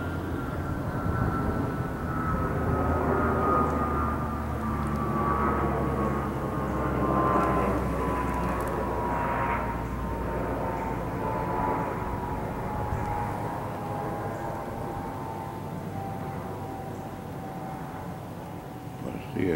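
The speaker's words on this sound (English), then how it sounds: "Plane's on the way to Charlotte," A fixed-wing airplane headed for Charlotte passes overhead above a wooded area, a steady droning engine roar with a slowly falling whine, continuous and moderately loud throughout.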